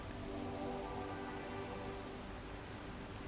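Steady rain patters against a helmet visor in Metroid Prime Remastered, a dense, continuous hiss of droplets with no pauses and no voices.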